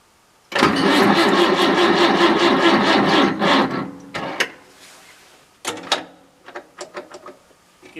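A Massey Ferguson 65 Mk II tractor's Perkins 203 diesel cranks and fires on a cold start after two months idle at -3 °C with no glow plugs, a loud continuous rattling roar for about three seconds, then sputters and stumbles in uneven bursts.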